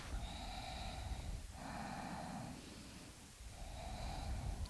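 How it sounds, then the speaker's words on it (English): A yoga student in a flow class breathes audibly through the nose, with slow, rhythmic inhales and exhales. The breaths are close but fairly quiet, about three cycles, and no one speaks. "You're going to want to really hear that breath."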